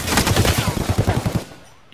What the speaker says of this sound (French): Il tire à travers le machin.